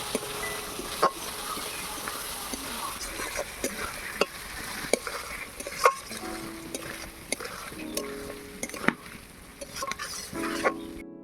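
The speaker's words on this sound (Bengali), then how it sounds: "আলুটাকে ভালো করে কষিয়ে নেব" Fried potatoes stirred in hot oil in a pan, with a steady sizzle and repeated sharp scrapes and clinks of a utensil against the metal; occasional faint voices.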